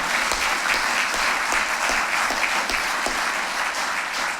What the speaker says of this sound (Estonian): Teeme Margusele ka aplausi.